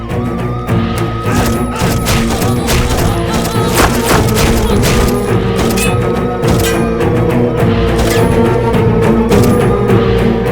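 A dense, loud volley of gunfire goes on for the whole stretch, rapid shots and crashing impacts packed tightly over a constant roar with no pauses.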